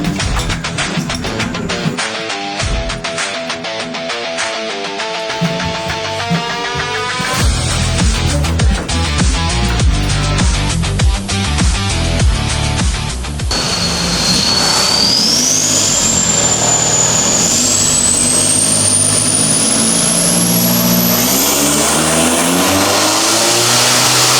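A turbocharged buggy engine roars loud and close on a dyno, revving hard through rising pulls, then holding a sustained high-load drone with a climbing turbo whistle, with no voices.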